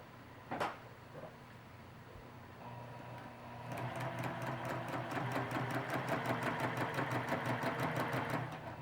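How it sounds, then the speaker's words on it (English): A sewing machine stitches fabric along a circular seam, starting after a click and a soft thump, then running in a fast, even mechanical rattle that holds steady for several seconds before slowing to a stop. "I'm going to stitch from this part of the circle up to the top half of the circle"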